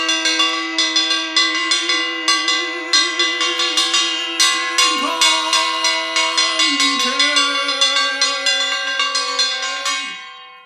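Bright metallic bells ring in a steady rapid series of strikes for about ten seconds, their tones ringing over each other before fading at the end.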